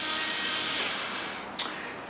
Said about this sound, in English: when you hit the button on top, your spices are perfectly grounded and you have a light